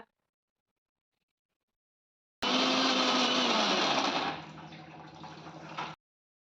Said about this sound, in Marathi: मिक्सरच्या भांड्यात इतकी साय घ्यायची आहे आणि मिक्सरला फिरवून घेऊया